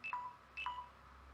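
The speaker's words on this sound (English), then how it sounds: "And my phone's bipping again." A mobile phone gives two short chirping alert beeps, each a quick falling two-tone blip, evenly spaced and fairly quiet against a low background hum.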